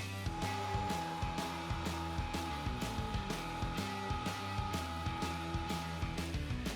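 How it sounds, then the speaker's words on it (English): Meat grinder running the second grind for cheese curd-stuffed beer bratwurst, a steady loud motor hum with a regular pulsing churn throughout. "we're going to load up our grinder with a new plate and start the second grind."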